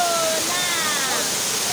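Rushing water of Kintampo Waterfall, a steady, dense, loud roar close by that continues unchanged throughout without pauses.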